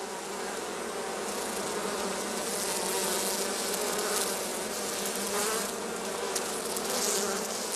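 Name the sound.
honeybees buzzing around hives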